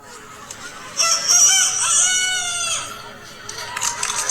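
In a crowing contest, people imitate a rooster with a long, loud cock-a-doodle-doo, a human voice copying the bird up close, with brief voices and noise around it.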